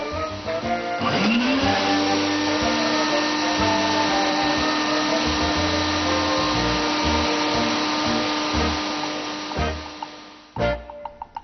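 A vacuum cleaner motor whines steadily and loudly for about ten seconds, switching on near the start and cutting off near the end.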